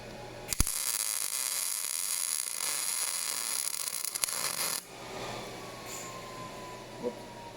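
A welder runs a full circular bead around a new dyno coupler: a steady, crackling hiss holds for about four seconds, then cuts off, leaving a faint hum behind.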